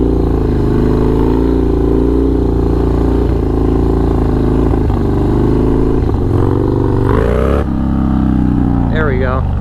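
Harley-Davidson Dyna motorcycle engine on a trail, loud and close, with uneven throttle surges and rumbling revs throughout. Someone talks over the engine, and near the end there is a sharp rise in pitch.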